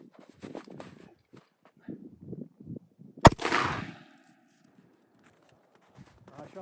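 A single sharp, loud shot of 5.56 fired from a Tavor X95 bullpup rifle into sand, a crack with a short rumbling tail, with quiet talk and shuffling before and after.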